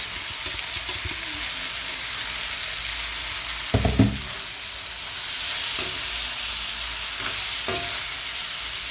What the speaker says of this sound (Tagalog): pag okay na yung ginigisa natin, ibabalik natin yung chicken